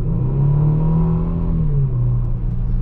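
A 2019 Kia Stinger GT AWD accelerates hard at full throttle, its engine note steady and loud with a rising then dropping pitch near the end as it shifts, heard from inside the car.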